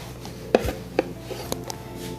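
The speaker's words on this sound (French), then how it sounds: "On va les couper en moitié." A knife cuts through blanched oranges, halving them on a board, with a few distinct close chopping knocks and light scraping in between, no talk.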